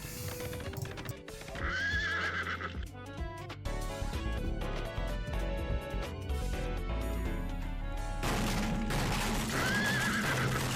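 Horses neigh and whinny over galloping hoofbeats in a horse racing animation, loud and continuous with dense music-like layers, whinnies standing out near the start and again toward the end.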